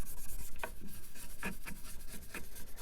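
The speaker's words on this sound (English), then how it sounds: "So you just want to rub it all over on the tray" Rag rubbing finish over a wooden tray decorated with glued-on beads, close repeated scrubbing and rasping strokes in an uneven rhythm with no talking.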